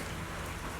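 Rain pours down steadily in a dense, soft hiss in the video game Zenless Zone Zero, heard briefly and faintly with no other sounds.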